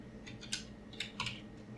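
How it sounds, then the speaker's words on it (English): Keys clack on a computer keyboard as a root password is typed, giving a quick, irregular run of soft, close clicks in an otherwise quiet room. "Then I will be typing my root password."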